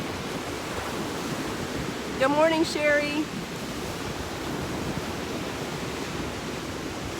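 Rough water waves wash in a steady, hissing roar that continues for the whole stretch. A voice is briefly heard partway through.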